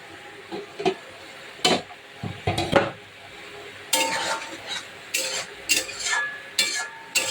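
Fish frying in a pan beside a spiced curry, with repeated scraping and clinking of a utensil stirring against the pan over a faint sizzle, in irregular bursts.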